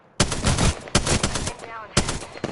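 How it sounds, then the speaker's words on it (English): Gunfire rattles in the video game Apex Legends, three loud, close automatic bursts of rapid shots separated by short pauses. "I'm getting shot at."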